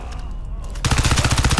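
Gunfire in the multiplayer game Crysis 3: after a brief quieter stretch, a loud automatic weapon opens up in a rapid, evenly spaced burst that runs to the end.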